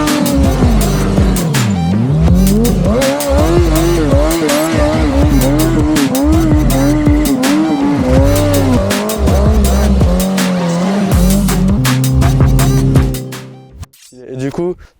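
A stunt motorcycle screams along on its rear wheel in a sustained, loud engine roar with rising and falling revs and tyre noise, close by, before cutting off abruptly near the end.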